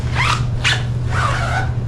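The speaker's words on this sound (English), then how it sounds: "find any zippers and zip up all the zippers" Zippers on outdoor gear such as boots, sleeping bags and raincoats are zipped shut before washing, with three quick, close, loud rasping strokes separated by brief pauses.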